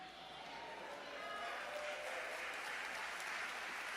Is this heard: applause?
yes